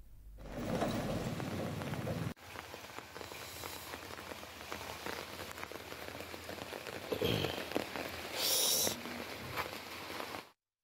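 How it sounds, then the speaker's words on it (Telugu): Heavy rain pours down in Tenali, Guntur district, as a dense, steady roar of drops hitting the ground and surfaces. It continues unbroken apart from a brief cut and a few louder splashes. "గుంటూరు జిల్లా తెనాలిలో భారీ వర్షం జనజీవనానికి తీవ్ర ఇబ్బందులు కలిగించింది."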